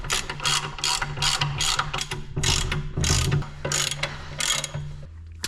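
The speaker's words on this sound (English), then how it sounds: "Line up our gasket and our plate, and we'll just start all the bolts by hand." A ratchet clicks in quick repeated bursts while bolts are run in on a ZF5 transmission plate with its gasket, sounding close and fairly loud with brief pauses between strokes.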